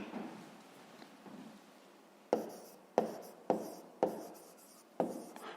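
Chalk or marker strokes on a board during a fifth-grade math exercise: faint scratching at first, then a series of five sharp taps and strokes spaced about half a second apart, close and alone.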